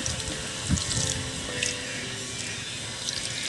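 Steady running water, soft and close, like water being poured into a pot of mung beans while cooking, with no voices.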